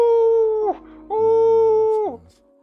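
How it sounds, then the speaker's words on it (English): A wolf in the video game Lost Ember gives two long, steady howls that fall away at the end of each, loud and close, with no talk over them. "I'm just gonna howl over this cutscene."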